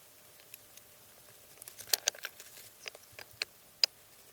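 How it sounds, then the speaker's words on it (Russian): Light drizzling rain outside an earthen dugout shelter: sparse, irregular soft ticks and pats of droplets, faint and scattered, growing slightly busier midway, with no voices. "Мелкий дождь продолжает моросить"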